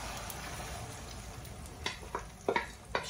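A potato, onion and egg omelette frying in a pan gives a steady soft sizzle, with a few brief scraping or tapping clicks near the end.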